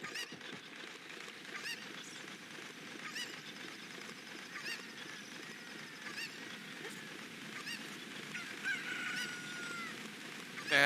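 A Cucco chicken in the Ocarina of Time randomizer clucks and squawks in a dense, continuous flurry of game sound that stays steady for about eleven seconds.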